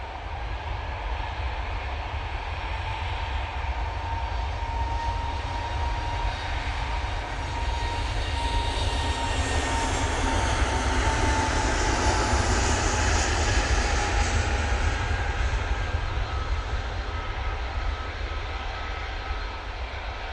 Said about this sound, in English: Off to Belfast, we will be going with this A320 Neo Freeze jet.